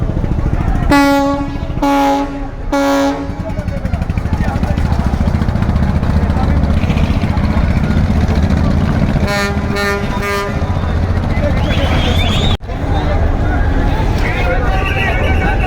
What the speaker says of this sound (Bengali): তিন তিনটি লঞ্চ কিন্তু একসাথে বরিশাল লঞ্চ ঘাট ত্যাগ করলো